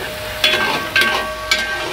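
Rice stir-fried in a pan for a Punjabi bagocha, with soft scraping stirs and a light continuous sizzle, three distinct stirring strokes roughly half a second apart, close by.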